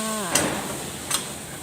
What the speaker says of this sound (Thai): ผัดหมูให้สุกเลยค่